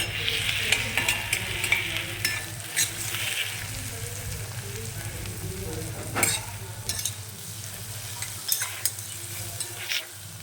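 Onions and green chillies sauté in oil, a low steady sizzle with a faint hum beneath, punctuated by scattered scraping stirs and a few sharper knocks of the spoon against the pan.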